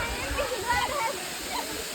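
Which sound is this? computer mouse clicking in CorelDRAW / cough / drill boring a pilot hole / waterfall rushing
waterfall rushing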